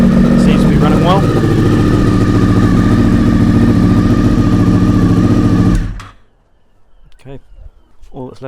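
Honda VFR motorcycle engine idling steadily and loudly up close after an oil cooler pipe swap, then cutting off abruptly, leaving faint background sounds.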